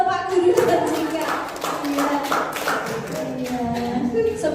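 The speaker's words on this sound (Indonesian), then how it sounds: "Tepuk tangan untuk Pak Guru" Scattered classroom applause for a teacher during a school dissemination session, light uneven hand claps heard under and between nearby voices talking.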